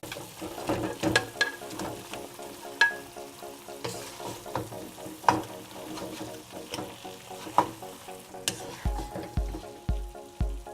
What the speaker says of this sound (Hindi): थोड़ी देर बाद इसे मिक्स करते रहें ताकि ये जल ना जाए।